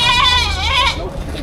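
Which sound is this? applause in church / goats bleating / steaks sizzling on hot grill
goats bleating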